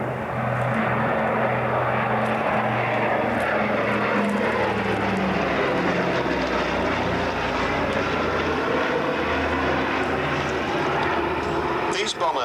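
Droning B-17 bomber engines roar continuously overhead, loud and steady with a throbbing low hum that wavers slightly in pitch.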